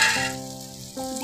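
Pre-fried onion and capsicum tipped into a pan of well-cooked, sizzling masala for an egg dopiaza, giving a loud hiss that eases off and then flares up again about a second later, with no voices.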